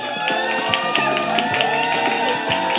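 An audience at a Korean TV show press launch cheers and claps in a steady, lively swell that lasts a few seconds, with music playing underneath.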